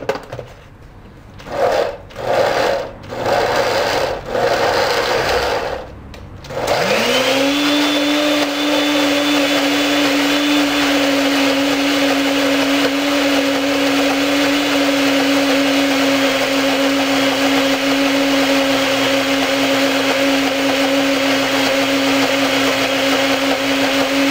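A blender grinding fresh corn whirs into a steady, loud grinding hum that holds for about twenty seconds, after a few short pulsed bursts at the start.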